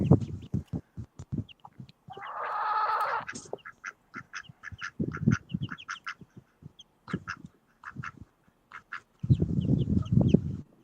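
Pet ducks and chickens in a backyard coop, heard through a grainy live camera feed: a run of close, loud quacks and clucks with a sustained squawk partway through and a noisy burst of calls near the end, with no talk.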